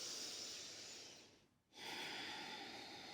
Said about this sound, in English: And just take a big, deep breath.